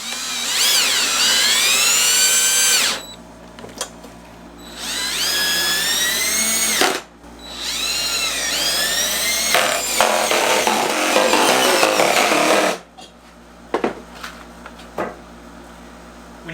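A power drill drives thread cutting screws into metal for a neon sign, loud whining bursts that rise in pitch as each screw bites and seats, repeated three times with short pauses.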